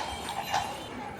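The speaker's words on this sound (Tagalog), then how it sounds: "tingnan naman yung mga kabayo." Horses' hooves clip-clop on a street in Antibes in the South of France, a brief, fairly faint patter of a few steps within outdoor street ambience.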